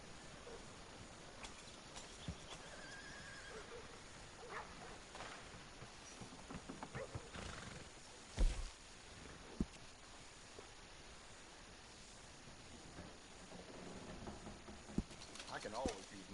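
Horse hooves clip-clopping in Red Dead Redemption 2, a steady patter of footfalls with occasional louder knocks over a continuous windy background, while characters talk; no clear neighing stands out.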